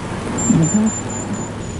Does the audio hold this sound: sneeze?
no